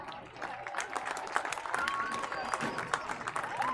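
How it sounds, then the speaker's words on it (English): Spectators at a high school football stadium applaud the departing football seniors and their parents, giving a steady, fairly distant wash of clapping and crowd noise with voices mixed in. "please give them a big round of applause"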